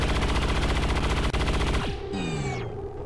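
Rapid automatic gunfire rattles steadily in the video game XCOM 2, loud and unbroken, and then cuts off into a falling electronic whine and ringing tones.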